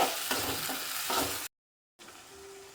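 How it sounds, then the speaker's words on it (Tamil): Ground tomato paste being sautéed with ginger and garlic in a pan, a close hissing sizzle with stirring scrapes that cuts out abruptly into silence, then a faint low hum. "அதை அப்படியே போட்டு நல்லா வதக்கிட்டு"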